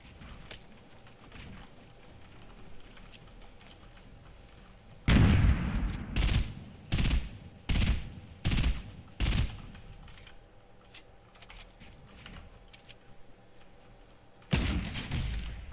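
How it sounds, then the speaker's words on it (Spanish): Fortnite gunfire comes in a burst of sharp, loud shots, a cluster of about six evenly spaced reports after a quiet stretch, then one more blast near the end, over faint background game sound. "Si justo he disparado yo también cuando se me ha asomado."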